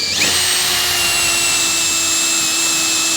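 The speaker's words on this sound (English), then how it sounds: "now I'll drill this pilot hole." Power drill spins up sharply and runs at a steady high whine while boring a pilot hole into a wall stud, loud and close with no talking.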